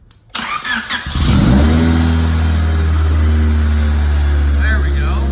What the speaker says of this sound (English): we're about to start the car